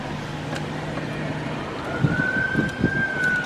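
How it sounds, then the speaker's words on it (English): An ambulance siren on a city street, heard from inside a car, comes in as a faint, steady tone that swells in the second half, with a few low thumps and background traffic hum. "Because there's an ambulance."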